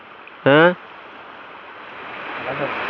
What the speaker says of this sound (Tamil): இது குட்டி வாட்டர் ஃபால்ஸ்